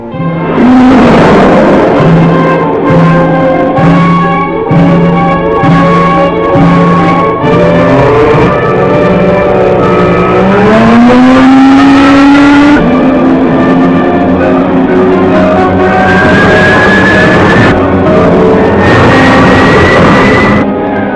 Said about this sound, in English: Captain Video and the Ranger race toward Atoma in their space rocket to save the famous scientist